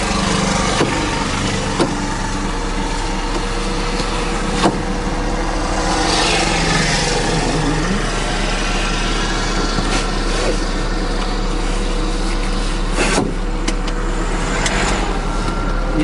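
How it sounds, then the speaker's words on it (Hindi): A car engine pulling away in first gear, a steady droning motor run with some rattles and faint ticks throughout, fairly loud and alone with no talk. "ये मैंने फर्स्ट गियर पे चला ली"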